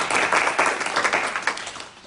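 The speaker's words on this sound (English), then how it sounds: "I think that deserves a round of applause for the college council." Applause at a college board meeting, a brief burst of steady clapping from a group of people in a room.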